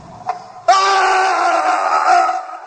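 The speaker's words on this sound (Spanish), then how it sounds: "Se oyó un grito." A sustained, piercing scream rings out loud and close for about two seconds after a brief lead-in, used as a dramatic effect in a spoken Spanish narration.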